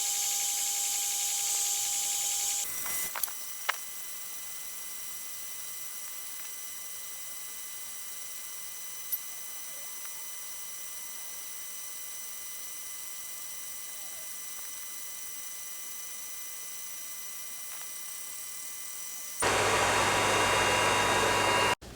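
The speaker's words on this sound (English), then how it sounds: "for my last test, I am just going to engrave my logo" A LONGER Ray 5 20-watt laser engraver engraves a logo, a steady faint hum with a soft fan drone, framed by louder whooshing bursts at the start and finish.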